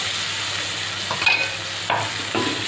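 Ghati spice masala roasts in a pan for egg curry with a steady close sizzle, broken by a few sharp stirring scrapes and clinks.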